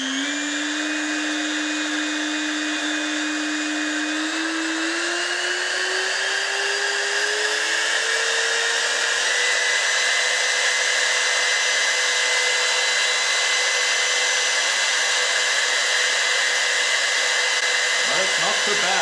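Makita RT0700C router trimmer motor whining steadily at close range, its pitch climbing gradually as the speed is raised, then holding a loud, even drone to the end.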